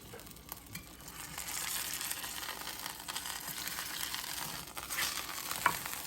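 Ribeye roast rolled in a roasting pan, sizzling and spattering steadily with a dense hiss for several seconds, a couple of brief clinks as it is turned over, no talking.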